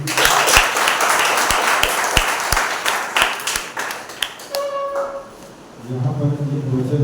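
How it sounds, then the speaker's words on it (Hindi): A church congregation at a Sunday service claps together in a loud, fairly steady burst of applause, then the clapping fades into tones and voices. "आइए उस पवित्र परमेश्वर के लिए एक दो बार तालियां हो जाए।"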